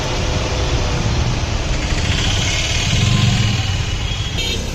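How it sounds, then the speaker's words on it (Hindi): A car's radiator cooling fan keeps running with the engine switched off, on an overheating car, giving a loud, steady, close-up whir with no breaks. "अभी गाड़ी बंद है पूरी, और उसके बाद भी देखो ये फैन इसमें चल रहा है"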